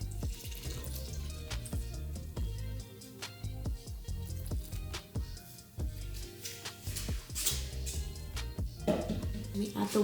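Almond milk poured into a bowl for bread dough makes a running liquid trickle under steady talk, with scattered clicks and knocks of kitchen handling throughout.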